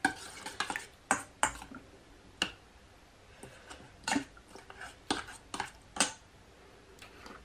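A spoon stirs a honey marinade for chicken wings in a bowl, giving close, irregular clinks and scrapes of metal against the dish with short pauses between strokes.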